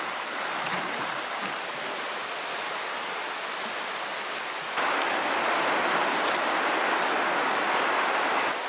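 Kitkajoki river flowing steadily along a hiking trail on the Karhunkierros route, a constant broadband rush of water with no pauses, growing noticeably louder and closer partway through.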